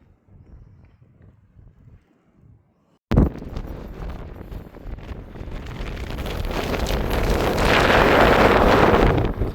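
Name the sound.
strong gusty wind on the Crib Goch mountain ridge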